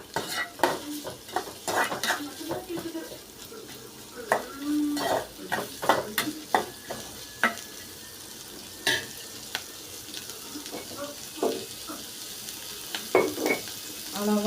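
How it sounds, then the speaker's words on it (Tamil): Onions sauté in a pan with curry leaves for a drumstick stir-fry, with a soft sizzle beneath repeated sharp clinks and scrapes of a spoon stirring against the pan, fairly close and not loud. "இப்போ வெங்காயம் போட்டு வதக்கிக்கலாம்"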